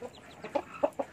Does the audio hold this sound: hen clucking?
yes